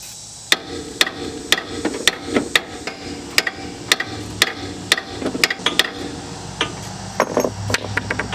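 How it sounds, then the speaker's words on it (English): Repeated sharp metal hammer blows on a Honda Civic suspension part during a coilover install ring out at an irregular pace, loud and close, with a faint mechanical background between strikes. "Now I would hammer this next till that falls out."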